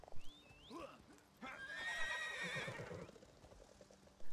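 A horse in The Elder Scrolls Online whinnies loudly in a long, shaky neigh, preceded by brief squeaky calls and followed by soft hoof clops.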